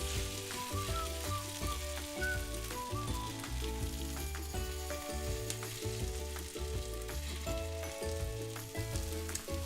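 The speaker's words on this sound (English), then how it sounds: "So our fritters have been cooking for about a minute, 2 minutes per side." Swiss chard fritters fry steadily in a pan, a soft continuous sizzle sitting beneath prominent rhythmic background music, with no talking.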